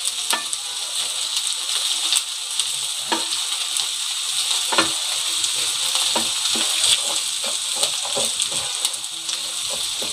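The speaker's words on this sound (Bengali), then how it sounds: "এগুলো কিন্তু নাড়া দিতে হবে।" Rice grains frying in a pan while being stirred, making a dense, continuous sizzle close by, broken by scraping stir strokes and sharp little pops, with no voices.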